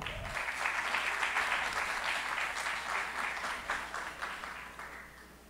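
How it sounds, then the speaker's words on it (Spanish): A crowd at a urology symposium in Colombia applauds steadily, a dense wash of clapping that holds strong and then gradually thins and fades toward the end. "Y el aplauso para Camilo Andrés Amaya."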